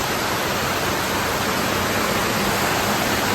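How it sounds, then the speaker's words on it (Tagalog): Heavy rain pours in a dense, steady roar that stays loud and unbroken from start to finish, with no voices. "Lakas ng ulan."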